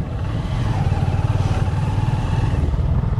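A motorcycle rides a hill road near Panchgaon, Netrokona, its engine throbbing in an even, rapid pulse that stays close and steady for the whole stretch.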